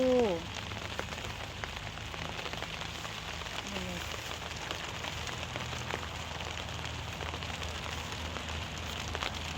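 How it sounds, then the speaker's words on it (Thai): Steady rain falling on a garden, a constant hiss of drops hitting surfaces, with faint tonal sounds and a brief voice near the start. "เพราะว่าฝนตก"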